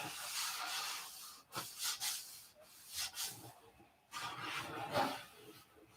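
Hand sanding of a painted and clear-coated surface gives a rough, rhythmic rubbing. Strokes come back and forth at close range, with brief pauses between passes.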